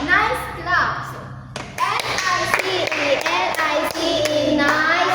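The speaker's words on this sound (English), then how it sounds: "So let's give them a nice clap." A classroom of children claps for a group of classmates, a rough, dense patter of many small hands that follows a teacher's voice and continues under children's chatter and talk.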